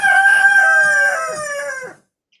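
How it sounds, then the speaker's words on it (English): A rooster crows once, a loud, close cock-a-doodle-doo lasting about two seconds before cutting to silence. "Well, I can hear the rooster now."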